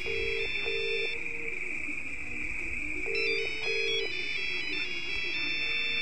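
A mobile phone ringtone plays nearby in an empty village setting, a steady electronic tone with repeating melodic chirps and short beeps, continuous and fairly loud throughout with no talk.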